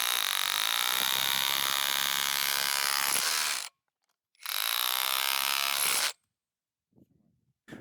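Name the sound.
cordless hammer drill breaking stone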